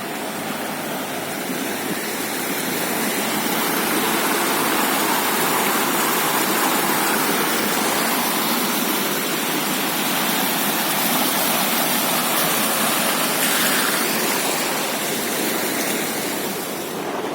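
Continuous loud rushing, churning water in a sewage treatment aeration tank, a dense roar of bubbling and splashing that stays steady throughout, with no voices.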